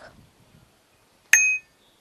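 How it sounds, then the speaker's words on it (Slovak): Bicycle bell rung once, a single bright ding with a short ringing decay, clear and close, following a few faint rustles in an otherwise quiet setting. "Má to zvonek."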